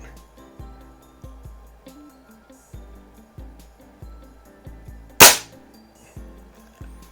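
A Feinwerkbau 124 air rifle fires a pellet in one sharp, loud crack near the end, preceded by a quiet, sparse pattern of faint tapping and background sound, with no talking.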